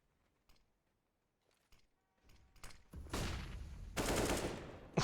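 Gunfire rings out in a Counter-Strike match between professional teams: faint scattered clicks first, then two loud bursts of rapid shots close by, the second the heaviest.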